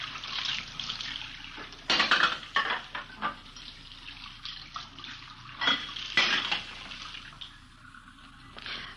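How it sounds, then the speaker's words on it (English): Dishes being washed and rinsed in a kitchen sink, with water splashing in bursts and dishes and cutlery clinking nearby, in irregular surges and pauses. "We found her in the kitchen washing dishes."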